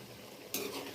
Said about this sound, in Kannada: ನೋಡಿ ಕುದೀತಾ ಇದೆ.